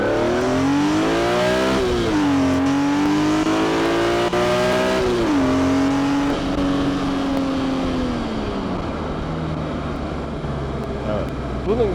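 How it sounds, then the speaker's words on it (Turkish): A BMW E46 M3 inline-six engine revs hard and climbs in pitch, then eases back down, a loud metallic howl with a brief pause between pulls. "Bu motorun böyle çok güzel bir metalik sesi var."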